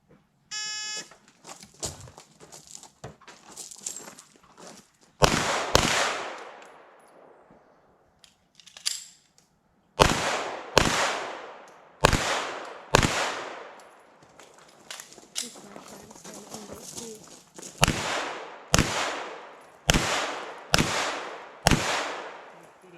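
Handgun shots fired in a shooting competition, a long run of loud, sharp cracks in uneven bursts with a faint beep at the start and quieter distant shots between, people speaking briefly early on.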